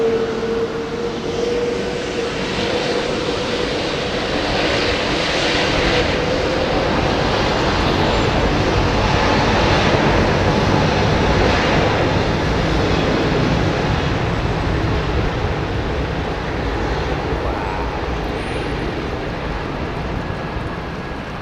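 Engines on an airliner at London Heathrow swell into a loud, sustained roar as it swings onto the runway centre line and powers up for takeoff, a broad continuous rumble that builds and holds with no talk.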